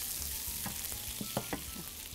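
Onions being stirred as they fry in a pan, a faint steady sizzle with a few soft scraping knocks of the spoon toward the end.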